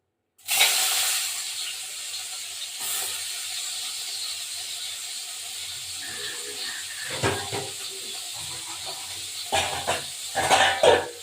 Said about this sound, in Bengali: এই যে আমি চিংড়ি মাছটাকে এবার ভাজা বসিয়ে দেবো